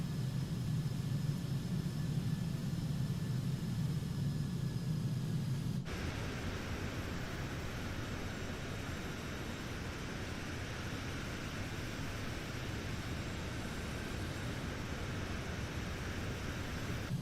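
Citation Sovereign business jet on approach in a flight simulator game, a steady broadband engine and air roar with a faint whine that shifts abruptly partway through to a slightly different, continuous rushing tone.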